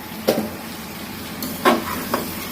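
Soft sizzling from meat frying in a pan on a stove turned up high, with a few brief scraping stirs and light clinks of a utensil against the pan.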